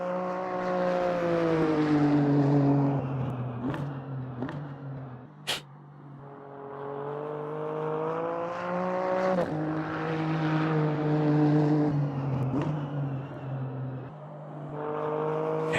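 A GT3 race car in the Automobilista 2 racing game revs through repeated gear changes, with rising engine tones broken by brief upshift cuts and sharp pops over about sixteen seconds, loud and alone.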